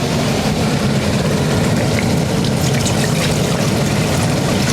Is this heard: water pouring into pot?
yes